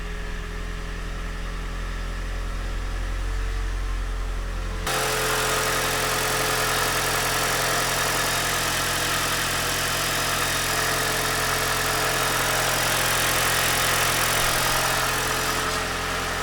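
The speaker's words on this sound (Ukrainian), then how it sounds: "Як на мене двигун працює дуже рівно" A Toyota Prius engine idles steadily in a parking lot with a low, even rumble, then grows louder and fuller partway through as the gas is pressed, and keeps running smoothly without any break.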